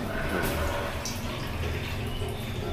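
A newly installed shower in a renovated bathroom runs steadily, a continuous splashing hiss of water at moderate level, with faint background voices.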